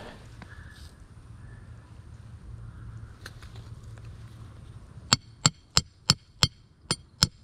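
Seven sharp, evenly spaced impacts ring out after a stretch of quiet outdoor ambience, like a mallet pounding a stake into the ground while laying out a strawberry row.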